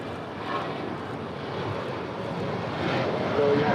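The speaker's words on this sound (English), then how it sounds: "This is United 1013 departing to Denver" A United Boeing 737-800 takes off from LAX runway 25 right, bound for Denver, with a steady broadband jet roar that swells slightly toward the end.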